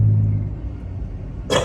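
Steady low rumble of a V6 car engine, loud and close, holding a constant idle-like drone before a brief burst of hiss or wind noise at the very end; nobody speaks.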